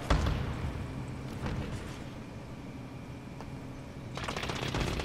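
Gunfire in Call of Duty Warzone on the Verdansk map, with a sharp burst of shots at the start, scattered distant pops in the middle and a rapid automatic volley toward the end.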